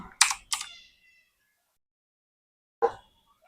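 A computer keyboard gets a few sparse keystrokes: two quick clicks close together, then silence, then a single clicked key, all close and clear in a quiet room.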